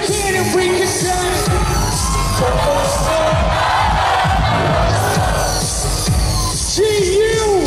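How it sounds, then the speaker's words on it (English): A concert crowd at a show at Gannon University screams and yells at full volume, a dense sustained roar with whoops and a sung vocal line rising above it. "Now for one last time, scream it as loud as you can"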